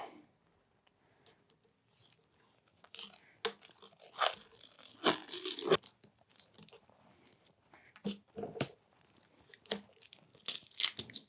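Protective FireWrap sleeve being unwrapped from a breaker bar, producing close crinkling, tearing and crackling bursts with irregular rhythm and short pauses between them.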